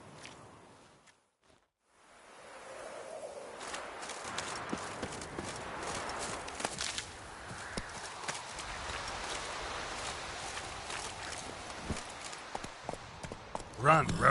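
Roach, the horse in a video game, gallops with a quick, rhythmic drumming of hooves that starts after a brief silence and stays steady and close, under a speaking voice.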